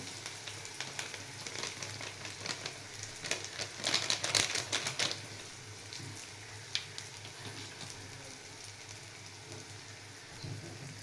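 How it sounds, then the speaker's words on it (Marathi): Spices and curry leaves stirred and fried in oil for chole, a soft continuous sizzle broken by crackling bursts and scraping stirs that peak partway through, then settle back to a low hiss. "आता हे सगळं मिक्स करून घ्यायचं चांगल्या प्रकारे तेल सुटेपर्यंत"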